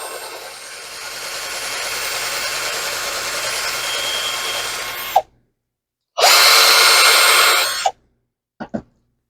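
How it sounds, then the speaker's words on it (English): A power drill bores through a recycled sign in a steady, loud whine for about five seconds, stops, then runs again in a second burst, followed by a couple of brief clicks and handling sounds. "Drilling it through like that"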